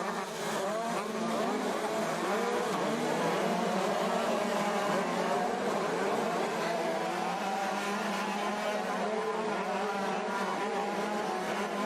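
EMX 125 motocross bikes race together at Faenza, their two-stroke engines whining and buzzing in overlapping, rising and falling tones, a loud continuous drone of several machines close by.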